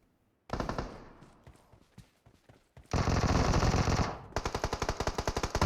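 Rapid bursts of automatic gunfire in the mobile battle-royale game PUBG Mobile, with a loose volley early on, then a long sustained loud stream and a final string of sharp, evenly spaced shots.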